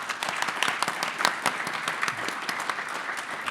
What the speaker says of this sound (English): Let's get a round of applause.